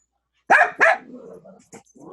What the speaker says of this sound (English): That dog is our button right there.